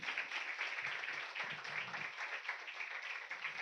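A church congregation at a Sunday service claps together in praise of God, a dense, steady wash of many hands applauding throughout.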